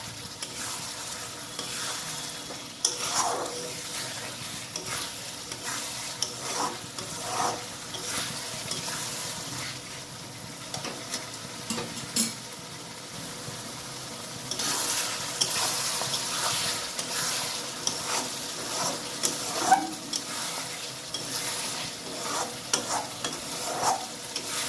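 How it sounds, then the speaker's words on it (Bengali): Spice paste with sugar, turmeric and a little water being sautéed in a pan, a soft bubbling sizzle broken by repeated spatula stirs and scrapes, fairly quiet and close. "জল দিয়ে এটাকে এবার ভালো করে কষাবো।"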